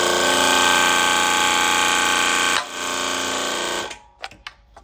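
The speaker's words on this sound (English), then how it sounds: "we'll be using this hydraulic pump and the hydraulic punch and seat here." A loud, steady mechanical whine from a hydraulic pump runs, dips, then cuts out, followed by a few sharp metallic knocks as the hydraulic punch presses through 1/4-inch steel plate.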